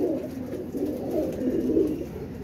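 Pigeons cooing close by in a loft, a steady overlapping stream of soft throaty coos with rolling swells and no talk.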